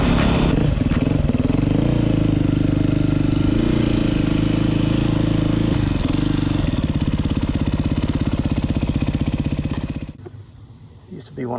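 A 2023 Beta 390RR-S dual sport motorcycle rides dirt roads near Bahama, North Carolina. Its engine drones loud and close, rising and falling, then drops off sharply near the end. A voice is heard over it.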